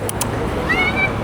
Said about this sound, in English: Little kitty wants to follow us.